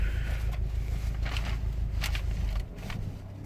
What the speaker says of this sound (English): So let's stall this car without spilling my coffee